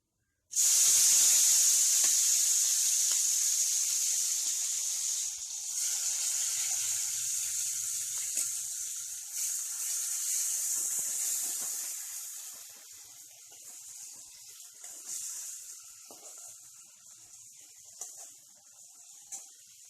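Onion paste added to a hot pan for bhetki fish kosha sets off a sudden loud, bright sizzle that stays strong for several seconds and then slowly softens into a steady, quieter hiss.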